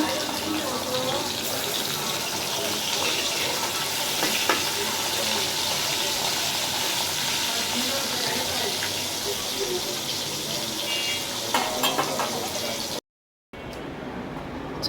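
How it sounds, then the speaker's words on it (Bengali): Potato chips frying in hot oil in a home kitchen, a steady dense sizzle that runs on without a break, loud and close, with a short gap of silence near the end. "আলুর চিপস ভাজবো"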